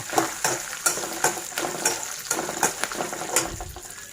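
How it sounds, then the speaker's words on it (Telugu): Mustard seeds, dried red chillies and peanuts crackle in hot oil as tempering for a tomato chutney, with sharp pops and spatters coming at a fairly regular rhythm over a soft sizzle, close and moderately loud. "పోపు అయితే ఎగిపోయిందండి"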